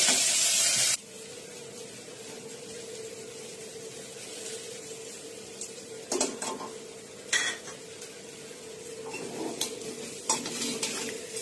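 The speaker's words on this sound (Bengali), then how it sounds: "পোলাওয়ের চালগুলো দিয়ে ভালো করে নাড়াচাড়া করা হলে" Polao rice being stirred in a pan for vegetarian khichuri, with soft scraping and light sizzling under steady noise, plus a few sharper utensil knocks near the end.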